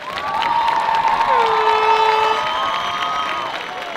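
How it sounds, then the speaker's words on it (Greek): An audience at a school event in Chios applauds and cheers while sustained tonal music, like held synth or brass notes, plays loudly over the clapping. "Να τους δώσουμε ένα χειροκρότημα, να τους υποδεχτούμε όλους μαζί"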